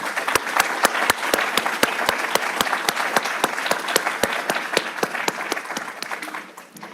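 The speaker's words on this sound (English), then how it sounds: "join us in a round of applause for all our graduates present and online" A large audience applauds graduates at a 10th-anniversary graduation ceremony for a higher-education leadership fellowship, steady dense clapping filling the room for nearly seven seconds before tapering off at the end.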